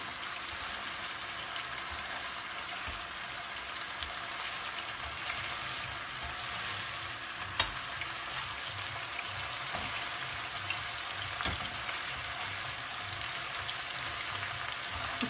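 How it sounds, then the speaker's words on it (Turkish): Chicken döner strips fry in butter in a pan with a steady, even sizzle and crackle throughout, close up, with a couple of louder pops and no talk. "böyle güzelce kızarıyor"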